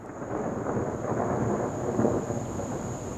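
Thunder from a thunderstorm rumbles steadily and heavily outdoors, a broad continuous roll with no voices over it.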